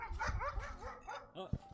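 A dog gives a quick run of soft yips and whimpering barks nearby, close and fairly quiet, with a faint thump at the end.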